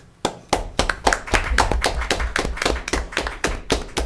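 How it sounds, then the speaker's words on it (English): At a school district board meeting, a small group applauds with sharp, distinct claps in an uneven rhythm for about four seconds, close and fairly loud, with no talking. "And he deserves a round of applause"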